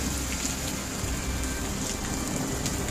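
Steady heavy rain falls and patters on surfaces, a dense continuous hiss with faint rumbles like distant thunder and no talking.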